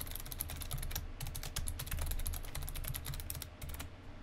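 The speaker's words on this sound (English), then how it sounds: "So we'll just put in our password once again." A password typed on a computer keyboard: rapid, close, crisp key clicks in an uneven rhythm, with a brief pause late on, heard alone at low volume.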